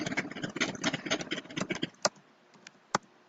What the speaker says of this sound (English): That sound is a motorcycle,